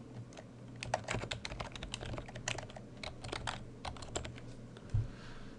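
Text typed on a computer keyboard in AutoCAD 2014, rapid irregular bursts of crisp key clicks with short pauses, close and moderately quiet.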